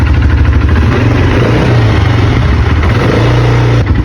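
A quad ATV engine running loud and close after a repair, a throbbing mid-pitched drone with steady revving pulses and slight pitch swells, alone without talk.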